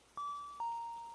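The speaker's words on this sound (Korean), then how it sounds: "또 집에서 종소리가 울려서" Two clear bell chimes ring out in a horror audio drama, the second arriving about half a second after the first, each a bright sustained tone that lingers and fades slowly against a quiet background.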